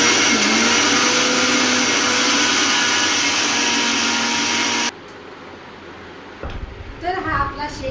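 A blender mixes a nutritional shake, whirring loudly and steadily for about five seconds before cutting off, followed by quieter handling and clattering sounds.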